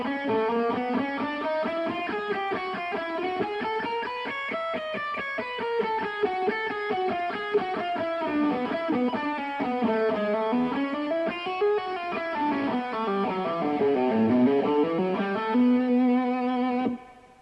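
Distorted electric guitar plays a slow, continuous riff of chromatic runs mixed with blues-scale phrases and pull-offs, rising and falling steadily for over fifteen seconds before settling on a held note, loud and alone.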